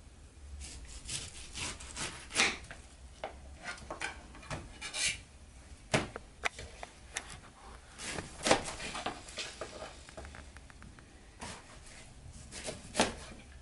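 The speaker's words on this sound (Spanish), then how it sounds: "lo que hago es cortar la piña alrededor de ello" A knife slices through a fresh pineapple around its hard central core, giving repeated scraping, sawing strokes with crisp fibrous crunches, close and fairly loud, with no voices.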